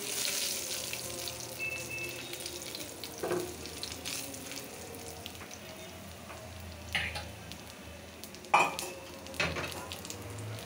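Greens go into a hot pan at a home cooking session and sizzle steadily, with a few louder spits and stirring scrapes over a low, constant frying hiss.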